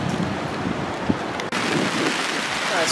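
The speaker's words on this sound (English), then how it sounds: "All right, so it's starting to rain now." Rain begins falling on a stretched tarp and tent at a campsite water catchment setup, a steady hissing patter with a few louder drops and wind buffeting the microphone throughout.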